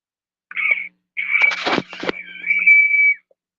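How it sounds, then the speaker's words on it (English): A cold water bottle with its lid screwed tight gives out a high, thin whistle in several short bursts, close and fairly loud, separated by brief silences. "That's my coldest water bottle. It whistle if I don't unscrew it a little bit."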